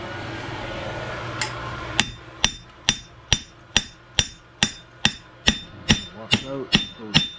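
A hammer strikes hot steel while a horseshoe is forged, ringing out about twelve sharp, evenly spaced blows close by after a brief quieter lead-in, with faint background hum.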